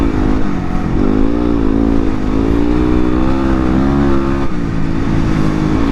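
A 2016 Yamaha WR250R motorcycle being ridden, its engine loud and steady with rising and falling pitch through the revs, heavy wind rumble underneath, no speech.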